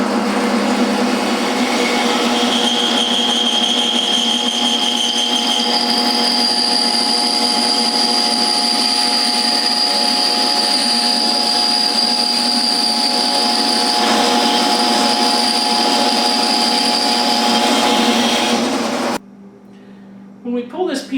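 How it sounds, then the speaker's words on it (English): A bandsaw cuts through a vertically laminated maple ukulele neck blank with a loud, steady, whining drone that runs unbroken for most of the time and then cuts off abruptly near the end. "So we're going to cut this on the bandsaw"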